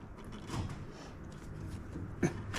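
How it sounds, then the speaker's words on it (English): A 5/16 Allen socket on a ratchet breaks loose the rear brake bolts on a Harley-Davidson Road Glide, giving faint creaks and mechanical clicks close by, ending with a sharper snap as a bolt frees. "We're going to break these free."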